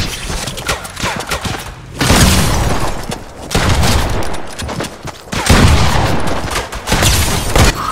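Fortnite Season 8 gunfire, loud dense bursts of rapid shots and booms in several volleys separated by short gaps, close and heavy.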